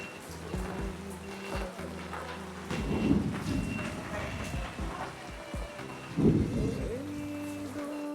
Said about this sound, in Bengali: এত পরিমাণ বৃষ্টি হচ্ছে আর ঝড় হচ্ছে